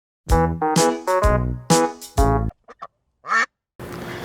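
Duckling quacks close by: a quick series of about seven loud, clear calls in a rhythmic burst, followed by a few softer, shorter peeps and one last call before a brief hiss.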